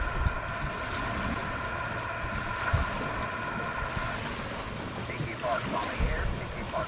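Water waves wash against a small boat out near Wolf Island National Wildlife Refuge, a steady close rush of water and wind buffeting the hull with occasional heavier slaps, continuous throughout.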